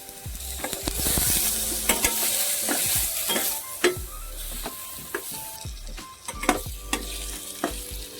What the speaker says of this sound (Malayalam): ഇതൊന്ന് ചെറുതായിട്ടൊന്ന് എണ്ണയിലൊന്ന് വറുത്ത് കൊടുക്കാം